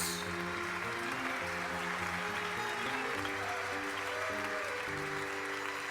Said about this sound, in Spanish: El estallido de aplausos elegantes y mesurados llenó el salón como una ola luminosa.